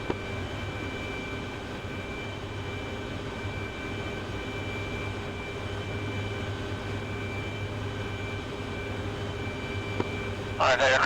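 Harrier jet flying in a video game during a poor-weather armed recon mission, a steady droning engine hum with faint tonal lines, constant and moderately distant, with a brief voice burst at the end.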